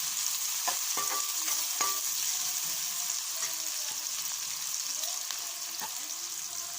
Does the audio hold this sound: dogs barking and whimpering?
no